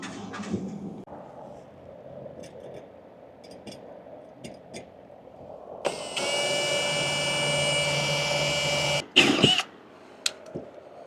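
After quiet shuffling, a loud high-pitched power drill with Milwaukee bits whirs steadily for a few seconds under a fire truck, then stops with a few short clunks and bursts.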